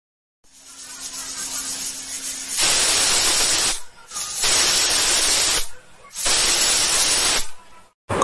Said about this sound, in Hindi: कुकर में 3 सीटी पूरी तरीके से आ चुकी है।